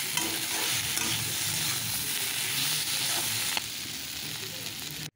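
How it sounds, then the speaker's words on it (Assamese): Chopped onions fry in hot oil, giving a steady, loud sizzle that runs unbroken through the clip with a few stirring scrapes, no voices over it. "এতিয়া তেল গৰম হ'ল পিঁয়াজ দিলোঁ এতিয়া ভাজি লৈছোঁ"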